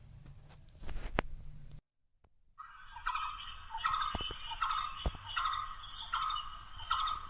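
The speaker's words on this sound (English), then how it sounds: "This is the sound produced by this barbet." Blue-throated barbet calling in a repeated series of loud, ringing notes with a steady rhythm, near and clear, following a brief pause after some earlier rustling sounds.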